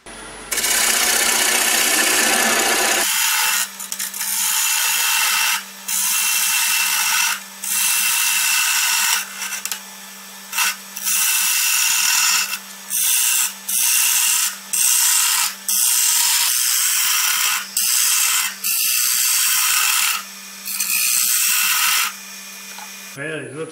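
A wood lathe turns a magnolia bowl while a Beaver tool cuts it down, giving repeated bursts of bright scraping and hiss with brief pauses between passes over a steady low motor hum.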